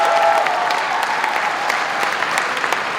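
A crowd applauds at the inauguration of a New York State Assemblymember, giving a dense, steady wash of clapping from start to end, with no speech over it.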